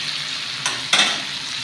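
Ginger garlic paste frying in a pan, a steady close sizzle with a couple of brief stirring scrapes, no talk.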